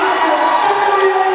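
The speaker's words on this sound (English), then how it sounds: "you can hear it from the crowd" A crowd at a high school girls' basketball game between Southmoreland and Geibel Catholic cheers loudly after a three-pointer from the far corner, a sustained bright roar of voices with shouting children mixed in.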